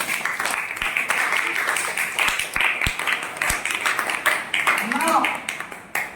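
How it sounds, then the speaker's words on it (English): A Class V school classroom claps for a student who answered correctly, a scattered burst of hand claps rising and falling over several seconds as the teacher and children talk over it. "So you can clap for him."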